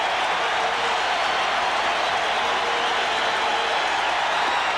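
A packed baseball stadium crowd at a night game sustains a steady, loud roar of cheering, a broad unbroken wall of noise from many distant voices.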